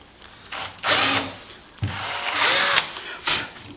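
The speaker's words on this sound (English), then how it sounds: "Pre-drill through there." A power drill bores pilot holes for countersunk screws through wood while building a torsion box assembly workbench, sounding as two short, close whirring bursts with a high whine and no talking.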